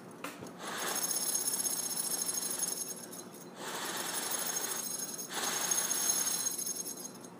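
Rattling of a fishing lure's metal blade against its stopper, a dense bright buzzing chatter heard close in three long sustained bursts with brief dips between them, with no talking.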